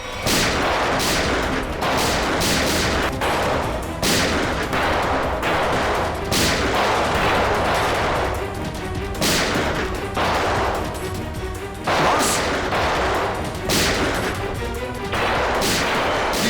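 Gunfire in a TV crime drama scene: loud, dense bursts of repeated shots and sharp cracks in quick succession throughout, with a busy dramatic soundtrack under them and no talking.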